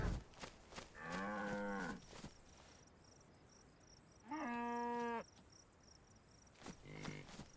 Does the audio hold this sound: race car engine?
no